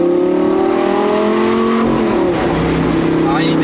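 Audi R8 V10 engine accelerating hard, a loud steady roar with rising harmonic tones sweeping upward, heard from close inside the car with voices talking over it.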